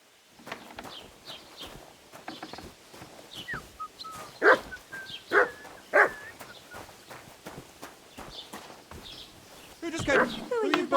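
A dog barks in a medieval village in the video game Kingdom Come: Deliverance II, giving a series of sharp, fairly loud barks amid hoofbeats, footsteps and game character voices.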